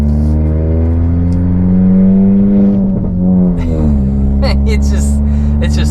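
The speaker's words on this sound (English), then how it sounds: "It's just the exhaust is just crazy." A 2018 Honda Accord Sport's exhaust droning steadily up close with a brief dip and rise in revs, then sharp crackles and pops breaking out over the rumble toward the end.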